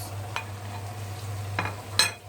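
Potatoes and mushrooms stirred in a frying pan, with a few scattered scraping strokes over a faint low sizzle and a steady hum.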